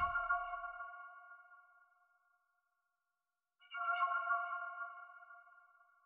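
Analog Lab synth preset Creeping Ghosts plays two sustained, eerie tonal chords, each swelling then fading, separated by a moment of silence, heard quiet and alone.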